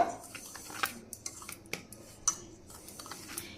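A spoon mixes Oreo cake batter with baking powder in a bowl, making faint, scattered clinks and soft scrapes against the sides at an irregular pace in a quiet room, with no talking.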